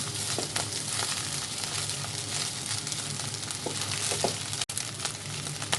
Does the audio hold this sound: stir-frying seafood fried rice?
yes